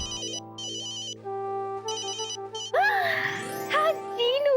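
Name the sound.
phone ringtone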